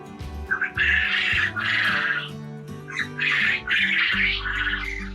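Male quail in a brooder give loud, harsh squawking calls in repeated bursts close by, with a low hum running underneath.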